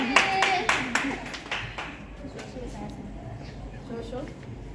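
Sparse clapping from a few people at a celebration with flower girls, a quick burst of claps at the start that thins out, with a voice speaking over it.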